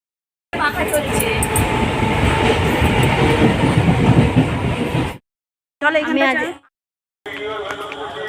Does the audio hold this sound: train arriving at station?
yes